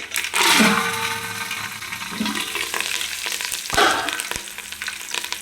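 Loud, steady sizzling and crackling of mustard seeds, curry leaves and dried red chillies frying in hot oil for tempering, close up, with a couple of sharp pops and stirring sounds.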